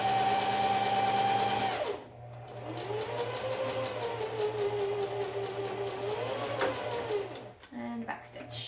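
A domestic sewing machine runs steadily close by, stopping briefly, then stitching on at an even whirring pace for several seconds before slowing near the end, with a voice speaking over parts of it.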